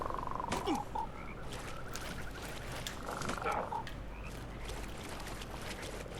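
Frogs croak in the video game Mortal Shell, two distinct rattling croak calls a few seconds apart over a quiet ambient background with faint water sounds.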